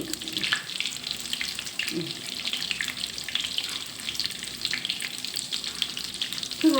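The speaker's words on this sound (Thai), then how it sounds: "ทอดมันไปอีกทีด้วยค่ะ" Tod man, Thai fish cakes, sizzle steadily in hot oil with a dense, crackling hiss that holds for the whole stretch, close and constant, with a few soft clinks of stirring and no talk.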